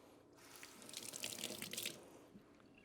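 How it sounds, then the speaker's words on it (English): Fresh tomatoes rinsed under a running kitchen tap, water splashing and spattering brightly into the sink for about a second and a half before it stops, close but quiet, with no voices. "I always like to clean my fresh produce before I use it, so wash that off."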